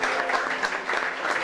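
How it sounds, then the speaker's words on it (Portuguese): A church congregation at a youth service applauds the Lord, a steady, moderately loud patter of many hands clapping together with no break. "Quantos podem aplaudir ao Senhor?"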